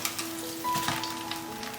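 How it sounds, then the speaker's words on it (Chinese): Steady oil sizzling as a seaweed and shrimp paste cake pan-fries over medium-low heat, a soft continuous crackle with a faint tonal hum running underneath. "然后把我们做好的紫菜虾滑的这一面放进来煎，注意火不要太大，用中小火。"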